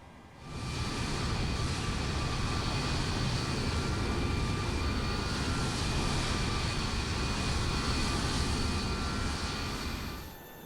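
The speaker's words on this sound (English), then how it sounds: "we have the APU started and we are ready for engine start" The APU and engines of a PMDG 737-800 in Microsoft Flight Simulator produce a jet whine that fades in, holds a loud steady hum with high tonal lines, then fades out near the end.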